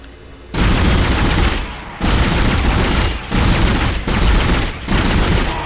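Gunfire in the video game Dead Space comes as loud, dense bursts of rapid automatic shots, five sustained volleys separated by brief pauses.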